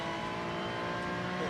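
A race car on a circuit holds full revs under hard acceleration, its engine a loud, steady, high-pitched roar that stays close and continuous throughout.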